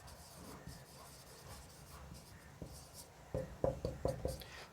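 Pen or chalk writing strokes on a board during a physics lesson on refraction of light, faint and scratchy at first, then a cluster of sharper, louder strokes toward the end.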